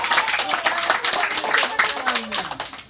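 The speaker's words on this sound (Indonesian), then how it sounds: "Coba dulu tepuk tangan dulu." A group claps hands at an Indonesian church gathering, a lively run of uneven, fairly close claps, with a voice briefly heard among them.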